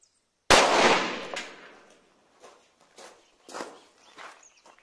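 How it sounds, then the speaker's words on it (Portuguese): A single sharp .22 LR shot with high-velocity Hyper ammunition is fired beside a cell phone, a loud close crack that decays quickly, followed by a few fainter scattered knocks and clatters. "vamos aproveitar um que já foi atirado e vamos fazer o disparo do lado."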